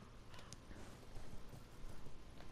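A horse gallops in Elden Ring, its hooves making a soft, quick clip-clop rhythm under a dense layer of ambient game noise, faint but continuous.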